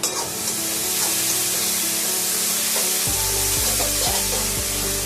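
Egg masala sizzles steadily in a hot pan with a roasted egg curry, a spoon stirring through it in a few distinct scrapes during the second half, close and continuous with no talking.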